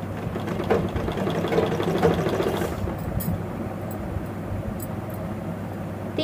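A sewing machine stitches a contrast strip between two panels of a nightie, a steady, close mechanical whirr for about three seconds before easing into quieter motor hum and faint clicks.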